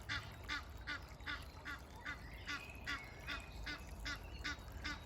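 Geese honk repeatedly beside a river, a steady rhythmic series of nasal calls from several birds at moderate distance over a low ambient rumble.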